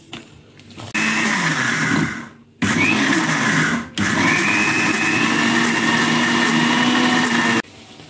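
A mixer grinder whirs loudly in three bursts separated by short pauses, its high-pitched motor buzzing steadily during each run.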